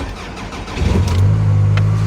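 A 2018 Toyota Camry with about 97,000 miles cranks and catches, its engine rising into a loud, steady rev that holds close by for the last second or so.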